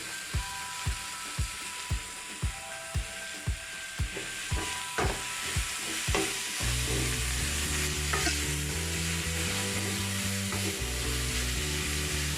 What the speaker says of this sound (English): We are frying a little bit more.